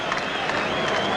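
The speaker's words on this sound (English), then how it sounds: "Hernandez going around, getting a round of applause from the fans." Boxing fans applauding Hernandez, a brief wash of dense clapping from a large crowd, loud and continuous throughout.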